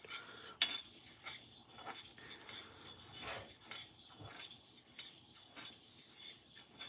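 A straight razor is honed on a natural sharpening stone, producing a quiet, regular series of close rasping strokes back and forth, each a soft scrape with brief pauses between.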